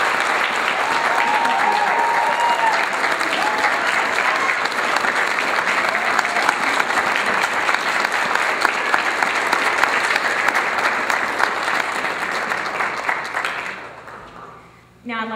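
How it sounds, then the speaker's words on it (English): An audience gives a long round of applause for students at a pinning ceremony, with dense, even clapping that fades out near the end and gives way to a brief bit of sound. "Please give these students a round of applause."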